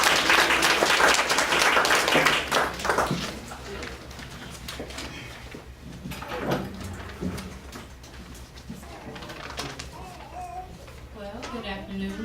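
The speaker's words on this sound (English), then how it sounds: "let's give Contessa Neal a round of applause" Applause from a board meeting audience for Contessa Neal, strongest in the opening seconds and then thinning out, with scattered voices and room noise following as it dies away.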